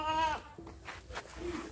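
A goat gives a single harmonic bleat at a goat farm with Beetal and Barbari breeds, loud and close for about a third of a second, followed by brief rustling and faint farmyard background.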